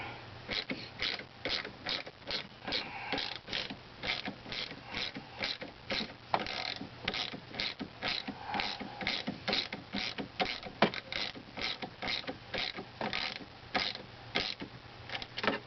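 Ratchet turning the fork leg bolts on a Honda NHX110 scooter, a close, rapid and steady run of clicking pawl ticks with occasional pauses and creaks.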